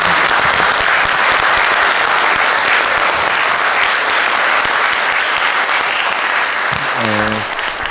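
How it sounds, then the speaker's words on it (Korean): Sustained, dense applause from an audience at a Korean talk event, steady and loud throughout, with a brief voice starting near the end. "끝까지 힘내시도록 저희가 큰 박수 마지막으로 부탁드리겠습니다"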